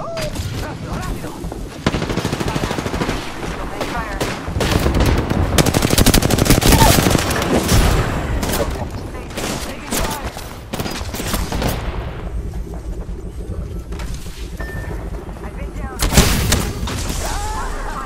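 Airstrike bombardment in the video game Apex Legends, heard as a dense, loud barrage of rapid explosions and gunfire that swells mid-clip and keeps rumbling, with voice lines and callouts over the top.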